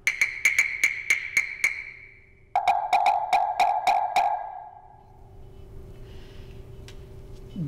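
A very small wooden percussion block is struck repeatedly in quick even taps, first at a high pitch, then a second block sounds lower; the hits are bright, dry and close, played alone without talk.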